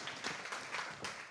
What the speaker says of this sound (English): can we please give them a round of applause as they take their